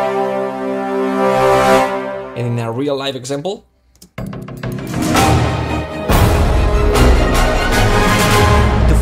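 Orchestral crescendo shaped with a double push of expression and then modulation, sustained harmonic chords swelling with a sforzato push, a brief dropout midway, then a fuller loud passage, with a voice speaking over the start.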